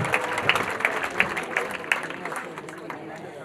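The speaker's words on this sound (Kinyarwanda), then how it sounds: "amashyi menshi tubashimire nabo" A church congregation at a wedding ceremony applauds, a run of sharp, fairly even claps spread through the room, strongest at first and then tapering off, with crowd murmur underneath.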